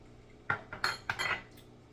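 A spoon clinks and scrapes against a bowl or pot while sugar is stirred into baked beans, a handful of short metallic knocks and one longer scrape, close and fairly quiet, no talking.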